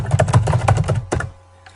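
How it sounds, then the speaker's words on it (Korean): Keys on a computer keyboard being pressed in a quick run of close, clicky taps, ending with one sharper press and then a quiet electrical hum. "오른쪽 프레임 삽입하셔도 되고 키보드 F5키를 누르셔도 되죠."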